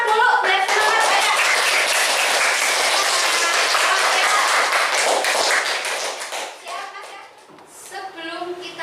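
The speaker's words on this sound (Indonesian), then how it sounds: "yang semangat tepuk tangan dulu" Students in a classroom applaud loudly and energetically, a dense sustained burst of clapping that tapers off near the end as children's voices come through.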